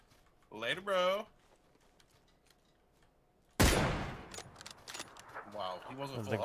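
Gunfire in the PUBG battle royale game erupts as a sudden sharp burst of shots, loud against a quiet background, preceded and followed by players talking.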